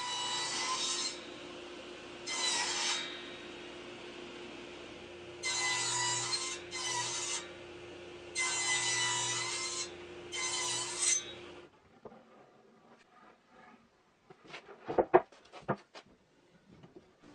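Repeated rasping strokes cutting finger-joint slots in wood guided by a template, in several bursts of one to two seconds with short pauses, followed by quieter scattered knocks and clatter.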